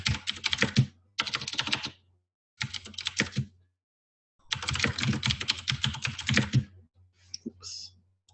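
Fingers type on a computer keyboard in several bursts of rapid key clicks, separated by short pauses, with a few isolated taps near the end; close and clear, with no speech.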